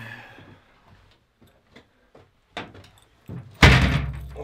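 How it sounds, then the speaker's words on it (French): A cabin door in the Pyrenees mountains is pulled shut, with a few faint clicks and knocks followed by a loud, close thud as it closes. "On referme la porte."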